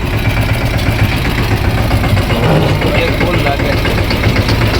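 A tractor engine runs steadily nearby on a farm, a loud, continuous rumbling chug that holds the same pace from start to finish.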